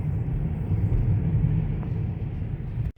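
Steady low rumble of a car interior while driving along the road to a gas station, constant engine and tyre drone at close range, ending abruptly with a soft thump.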